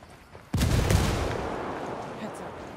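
A frag grenade explodes in a shooter video game, a sudden loud booming blast with a long rumbling decay, preceded by quieter background game noise.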